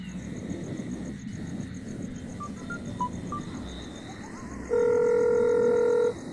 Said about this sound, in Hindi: रुक मैं उसे फोन करता हूँ।